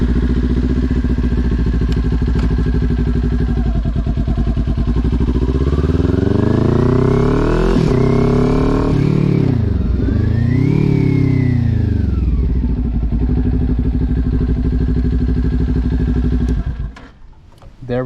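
A motorcycle engine idles with a steady putter, then revs and accelerates through several gear changes, rising and falling in pitch, before cutting off near the end.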